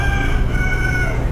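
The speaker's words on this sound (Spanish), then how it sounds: "Hay un gallo que está que canta hace rato, chicos." A rooster crows loudly and close, one sustained strained call filling the whole moment.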